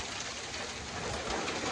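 Rain falls steadily outdoors in windy weather, a dense, continuous hiss of moderate loudness with no voices over it.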